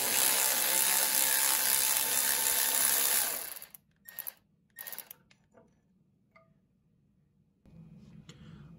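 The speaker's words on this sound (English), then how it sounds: "remove this E12 bolt that's holding on the bracket" A ratchet rapidly clicks for about three seconds while loosening an E12 bolt on an oil pan bracket of a 2011-2016 Chevrolet Cruze 1.8L, followed by a few short ratcheting bursts and quiet metallic handling.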